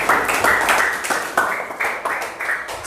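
Children in a classroom clap for a student group, a burst of scattered, uneven handclaps with a few sharper peaks, fairly close and fading slightly over a few seconds.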